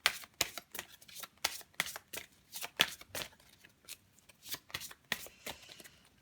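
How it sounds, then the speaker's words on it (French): Astrology cards are shuffled close up in quick, crisp riffles and slaps, a busy irregular rhythm of papery bursts with no speech over them. "on va prendre les cartes astro"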